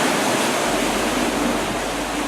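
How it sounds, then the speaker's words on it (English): A huge water wheel turns near St. Peter's Church in Salzburg, with a loud, steady roar of rushing, splashing water filling the space without a break. "Turn a corner from St. Peter's Church, and there's a huge water wheel."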